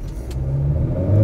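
A 2019 Acura RDX accelerating hard from a standstill, a close, loud, low engine roar building steadily with tire and road noise.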